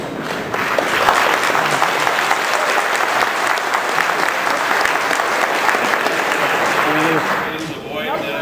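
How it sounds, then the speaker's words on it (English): A debate audience bursts into loud, sustained applause, a dense wash of many hands clapping that holds steady for several seconds before tapering off as a voice begins to speak. "Please avoid applauding during the course of the debate this evening."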